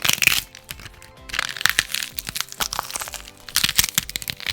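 Celery stalks are snapped and twisted close up, making a series of sharp, wet cracks and crunches in irregular bursts that mimic breaking bones.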